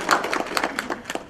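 Brief applause from a conference audience for a speaker, a quick run of light claps close by at moderate level, fading after about a second.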